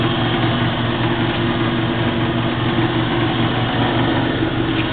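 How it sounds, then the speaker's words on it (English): Coolant pump on a JET 8 x 13 inch band saw running, a steady droning hum with no break or change in level. "We check the coolant pump,"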